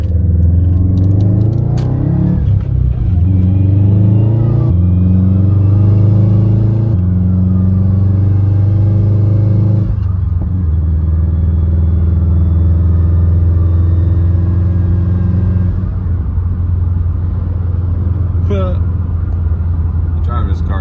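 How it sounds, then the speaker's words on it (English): A car engine hums steadily and rises and falls in pitch as it is driven, a continuous loud rumble with someone talking over it throughout. "Driving this car is fun."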